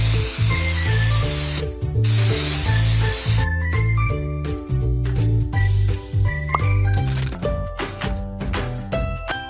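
A couple of hissing color-spray bursts ring out over bouncy music in the game Baby Animal Hair Salon 3, followed by tinkling, jingling chimes and plucky notes.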